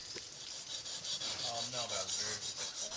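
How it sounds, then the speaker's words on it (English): Guides sharpen machetes on a wet ridgetop in the Philippines, a steady rasping scrape of blade on stone repeating in regular strokes, close and fairly loud with no talk. "The guides sharpened their machetes before we set out"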